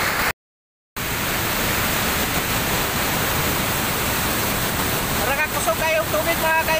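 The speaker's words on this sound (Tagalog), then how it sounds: "Kusog kayong tubig mga kaidol." Heavy rushing roar of Aliwagwag waterfall in Davao Oriental, a dense, steady wash of falling water, briefly cut out near the start, with faint voices toward the end.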